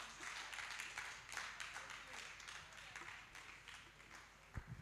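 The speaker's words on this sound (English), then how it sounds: "Let's give her a round of applause." Audience applause following a speaker at a business and career talk, a steady wash of many hands clapping at moderate distance that tapers off with a thump near the end.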